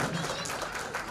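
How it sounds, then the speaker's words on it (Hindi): Applause from an audience at a Maharishi Gautam festival celebration in 2022 fills the whole moment, a dense, steady wash of clapping at moderate volume. "टीम का जोरदार तालियों से स्वागत किया जाए।"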